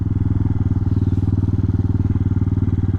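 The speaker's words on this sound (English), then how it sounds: "Bogging down a little bit in the first quarter of the throttle. Maybe my idle's too high." Loud, close motorcycle engine idling fast with a steady, rapid pulsing throb and no let-up.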